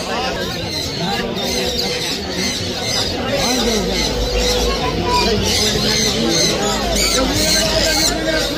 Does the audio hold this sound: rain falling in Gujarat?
no